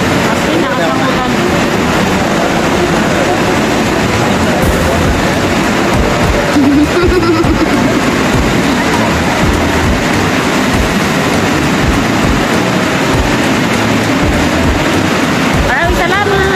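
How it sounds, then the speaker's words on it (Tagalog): Heavy rain pours down in Manila as a dense, steady roar that stays loud and close for the whole stretch, with no letup. "Wow, sobrang lakas ng ulan."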